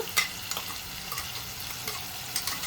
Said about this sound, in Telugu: ఇది వేసేసుకొని పచ్చి వాసన పోయే వరకు వేపుకోవాలండి